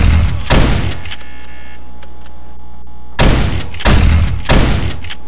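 A shotgun turret firing at a zombie in 7 Days to Die, with loud close blasts in two groups separated by a quiet gap of a couple of seconds.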